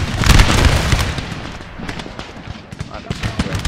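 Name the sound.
musket volley fire in Napoleon: Total War video game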